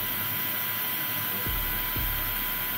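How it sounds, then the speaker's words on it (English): A Kacnon electric air duster blows a constant loud, close rush of air with a steady high-pitched motor whine, changing speed briefly twice partway through. "see how much pressure the scale can read from the different speed settings of the air duster"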